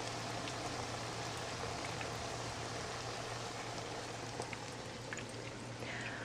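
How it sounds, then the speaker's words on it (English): Eggplant slices frying in hot oil for eggplant parmigiana give a steady, dense sizzle and crackle that continues without pause at a moderate level, with no talking. "I'm going to continue frying all these slices"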